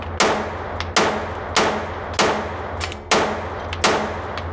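Five sharp Staccato pistol shots ring out at an indoor range with a dot sight mounted, spaced roughly a second apart, each loud crack trailing a short echoing decay, with no talking.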